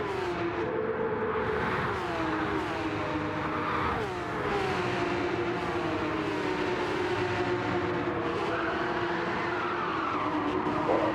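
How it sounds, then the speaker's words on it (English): Racing-game cars from a Porsche Cup league race at Maggiore sweep through a turn, with sustained engine drone and wavering high tyre squeal layered over the pack, loud and continuous throughout. "Squealing tyres, that's what that turn does."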